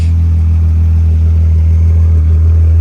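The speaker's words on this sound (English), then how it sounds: "MagnaFlow exhaust. Nothing special. Sounds kind of cool, but a little loud for me now." A 1995 VW Golf VR6 engine idles steadily, deep with a heavy low rumble through a loud MagnaFlow exhaust, constant and close, with no talking.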